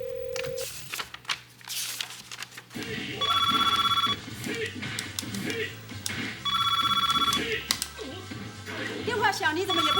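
A telephone rings in a school setting in two long electronic bursts with a pause between, loud and close, while people talk underneath and around the rings.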